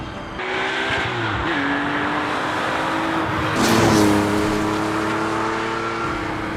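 1973 Porsche 911 Carrera RS 2.7 engine revving, a steady rising and falling motor tone with one louder surge midway, fairly close and heard alone.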